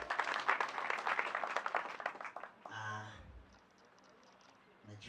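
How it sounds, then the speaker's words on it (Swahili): Applause for a reverend at a memorial service rises loud and dense at the start, then thins into scattered clapping and fades, with brief voices and murmurs near the end. "Tumpigie our Reverend makofi mazuri."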